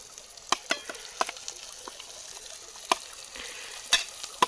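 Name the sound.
chicken frying and being stirred in a pan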